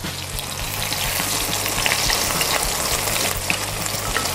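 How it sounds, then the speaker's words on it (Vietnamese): Fish, tofu and chicken wings fry in olive oil in a pot, making a loud, continuous crackling sizzle close up with no talking. "sẽ chiên hết cái phần cá này luôn"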